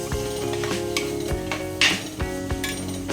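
A spoon stirs turmeric and spices in a cooking pot for a soup, giving scraping and clinking strokes over a steady background sizzle, close and clear with no talk.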